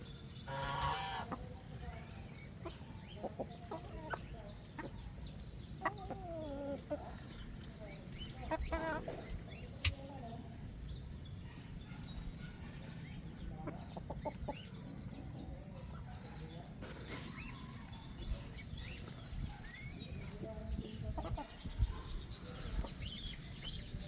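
A rooster clucks and calls on a farm, its bursts scattered through about twenty-four seconds against a steady outdoor background, with a person talking at times.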